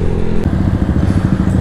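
A Yamaha NMAX scooter rides at the front of a group of seven motorcycles, its engine droning loud and close with a steady, pulsing low rumble and no talk over it.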